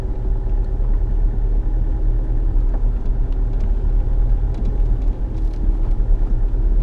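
A car engine drones steadily as it climbs a long hill on Salisbury Plain, a loud continuous low rumble with no breaks.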